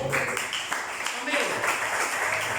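A church congregation claps together during a sermon, a steady wash of applause at moderate level with a voice speaking over it.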